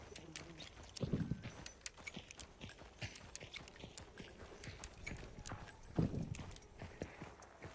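A horse in Hunt: Showdown clops along in a steady hoof rhythm, with two heavier thuds or snorts standing out over game background noise.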